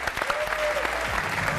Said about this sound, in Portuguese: Um aplauso para o Paulo.